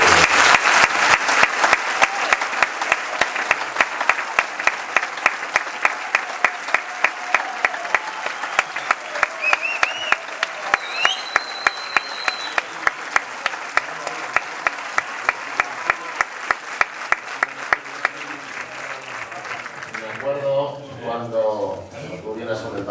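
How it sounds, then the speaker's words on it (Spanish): Crowd applause at a public event, a long, steady stretch of loud clapping lasting about twenty seconds, rhythmic and dense, fading at the end as a voice begins speaking. "Yo pediría un fuerte aplauso para este gran infante."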